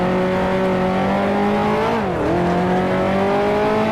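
A 1955 Ferrari Formula One engine in Grand Prix Legends drones loud and steady at high revs, dipping briefly with a gear change midway before pulling strongly again, close and unbroken with no voices.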